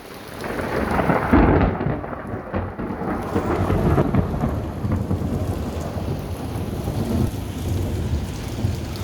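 Thunder rolls and rumbles through a steady downpour during a thunderstorm, the heavy rain hissing continuously at close range while the low booms swell and fade.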